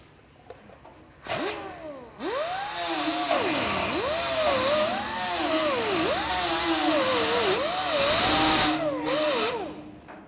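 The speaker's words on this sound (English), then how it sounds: "now I can go back and I can grind right up to that line here" An angle grinder grinds metal during fabrication work, spinning up loud and close, its whine dipping and rising repeatedly as it bites into the workpiece, with brief pauses between passes.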